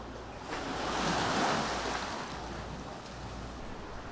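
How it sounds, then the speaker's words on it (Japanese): Ocean waves wash in at a secluded beach in Bali as a continuous broadband roar that swells to a peak midway and then eases, with no voices and some wind buffeting the microphone. "波が結構あります。"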